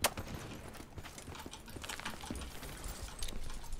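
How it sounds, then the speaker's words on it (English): Footsteps in Call of Duty: Black Ops 3 on PC, a quiet run of irregular soft steps mixed with faint in-game clatter and ambience, with no talking. "I'm hearing some footsteps behind us."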